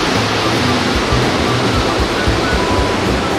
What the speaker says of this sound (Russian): Самые большие пороги на Катуне.